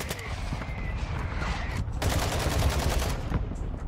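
Gunfire in a Call of Duty match, rapid bursts of automatic shots crackling close and loud, with a short lull before another sustained volley.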